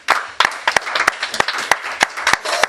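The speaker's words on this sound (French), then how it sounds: "Je voudrais qu'on acclame la parole de Dieu." A church congregation claps during a sermon, sharp irregular hand claps from several people in a loose rhythm, close and fairly loud over a low murmur.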